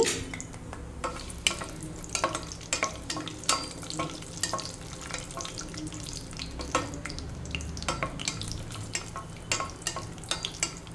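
Cashews fry in a pan with fennel seeds and cumin for brinjal pulao, a quiet continuous sizzle broken by repeated scraping and clinking stirs of a spoon against the pan.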